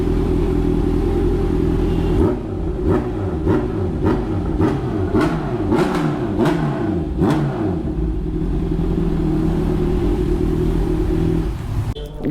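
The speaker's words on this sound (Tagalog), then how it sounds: "Rinig yung buga ng muffler. Maluwal na siya bumuga." A motorcycle fitted with a new washable air cleaner idles with a steady exhaust rumble, then is revved in a series of sharp, loud blips from the muffler before settling back to idle.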